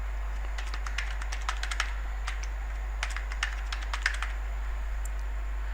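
Keys tapped on a computer keyboard while entering a password during ReactOS setup, in short irregular bursts of clicks over a steady low hum, fairly quiet and close.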